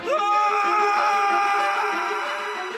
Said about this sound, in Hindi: एक जोरदार चिख से पूरा घर कांप उठी